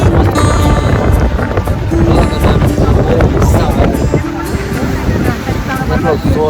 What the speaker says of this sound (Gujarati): એટલો જોરદાર પવન છે.